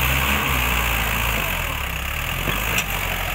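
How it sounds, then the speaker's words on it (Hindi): A tractor engine idles and runs steadily at moderate distance, a continuous low rumble with a faint knock or two. "चल ट्रैक्टर की रेल बना दे"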